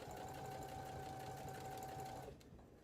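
An embroidery machine sewing steadily with a fast, even mechanical chatter and a faint whine, close and continuous before stopping near the end.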